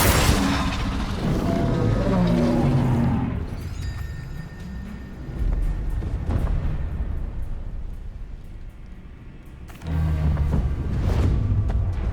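Bombarda and Confringo spells go off during Hogwarts Legacy combat, with several loud, booming blasts and crackling bursts separated by a quieter stretch before another heavy hit.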